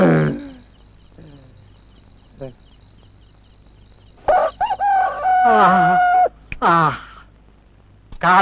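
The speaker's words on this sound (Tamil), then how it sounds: "சேவல் கூட ஏழு மணிக்கு தான் எழுந்துச்சு கூவுது" A rooster crows close by in a few loud, rising calls, with people talking before and between the crows.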